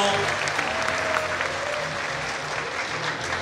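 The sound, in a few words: audience applause welcoming a speaker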